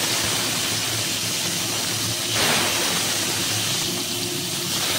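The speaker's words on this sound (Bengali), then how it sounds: "তেলটা গরম হয়ে গেছে, এবার আমি চিংড়ি মাছগুলো দিয়ে দিই।" Prawns coated in turmeric and salt fry in hot oil, giving a steady, loud, dense sizzle and hiss that holds up close through the whole stretch, with one brief surge partway through.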